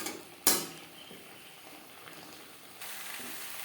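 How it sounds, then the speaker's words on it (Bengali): Fried potato and pointed gourd get stirred with spices in a hot pan for a vegetarian Bengali curry, soft sizzling under scraping spoon strokes, with a sharp metallic clack near the start and the sizzle swelling toward the end. "মশলার সাথে দু তিন মিনিট নাড়াচাড়া করে নেব"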